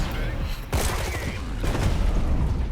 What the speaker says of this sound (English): It's a nice little explosion effects there as well.